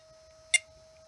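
A single short, high electronic beep from a ToolkitRC M6 battery charger buzzer, quiet and brief, over a faint steady hum.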